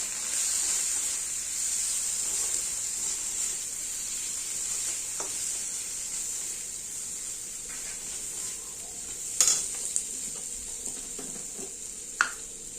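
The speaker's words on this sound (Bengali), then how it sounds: "ভালো করে কষিয়ে নেব" Rohu fish curry masala sautés in a pan with a steady, soft sizzle and hiss, broken by a few faint clinks of stirring.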